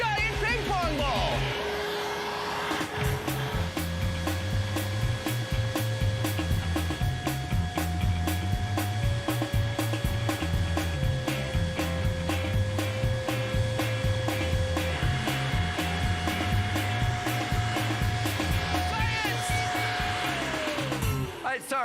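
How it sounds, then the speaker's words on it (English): A giant hair dryer blows with a loud, steady roar that runs unbroken for the whole stretch, while music plays on top of it. "we have to max it out with a giant hairdryer and a giant ping pong ball"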